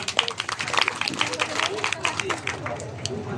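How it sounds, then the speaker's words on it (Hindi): Applause and clapping from a crowd at a district-level livestock fair and cattle exhibition in Godda, dense and steady with crowd babble mixed in throughout. "जोरदार तालियां हो जाए"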